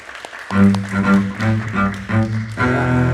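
A crowd claps loudly in a sustained burst at an award presentation, rising suddenly after a brief pause and continuing with uneven swells, with a voice briefly underneath.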